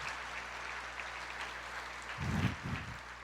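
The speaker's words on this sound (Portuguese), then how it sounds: "Você pode aplaudir o Senhor?" A church congregation at a Pentecost service claps together, the applause swelling out of a murmuring hall background. It is moderately loud and grows toward the end, with no speech over it.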